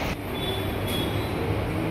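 A train rumbles steadily at a station in a low continuous roar with a faint high squeal from the rails, heard from nearby without talk.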